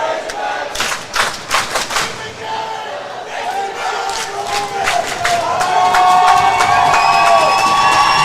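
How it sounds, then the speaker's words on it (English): Crowd at a college club ice hockey game between Arkansas and SIUE cheers and shouts throughout, swelling louder toward the end with sharp thumps and whistles scattered within the roar. "The crowd has energized themselves here."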